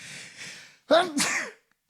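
A single close sneeze, sharp and breathy, preceded by a brief breathy inhale, then silence.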